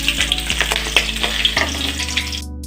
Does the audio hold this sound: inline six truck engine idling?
no